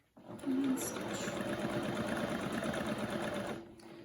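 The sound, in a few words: sewing machine stitching quilt patch seams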